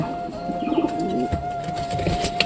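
Several pigeons coo in throaty, overlapping calls nearby, with a steady faint tone and scattered small clicks and rustles around them.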